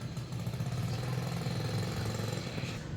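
A scrap buyer's motorcycle drives past with a steady mid-pitched engine drone, moderately loud and sustained for a few seconds, with no voices over it.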